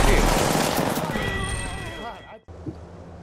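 Dense gunfire in the Apex Legends video game, a loud burst of overlapping shots that fades out with some whining tones and cuts off near the end, followed by quieter game ambience.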